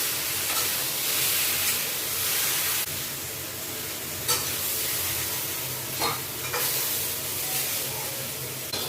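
Food frying in a pan on a new gas stove gives a steady, close sizzle, with occasional scraping clicks from stirring. No one speaks.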